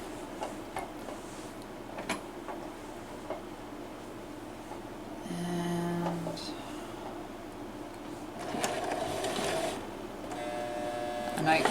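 A sewing machine stitching a purse lining seam runs in two short whirring bursts, steady and close, separated by quiet handling noises and faint ticks in a calm room.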